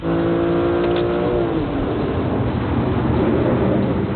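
A BMW M3 with a naturally aspirated 3-litre inline six-cylinder engine revs hard in one continuous, loud, close run, its pitch shifting as the engine climbs.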